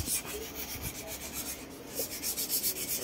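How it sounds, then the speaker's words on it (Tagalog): Hand sanding of body filler on a project car, repeated rhythmic raspy strokes of sandpaper scraping back and forth, close and steady. "Liha, ito yung pinakamahirap sa lahat eh."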